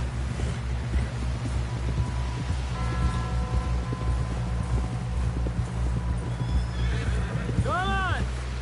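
A horse in the video game Red Dead Redemption 2 lets out a loud, close whinny near the end of the clip, preceded by steady hoof clip-clops and ambient outdoor noise.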